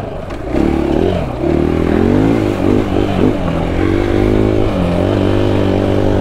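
A KTM EXC-F 500 off-road motorcycle engine revs steadily while riding, its loud, close exhaust note rising and falling with the throttle over a continuous drone, with light rattling from the bike.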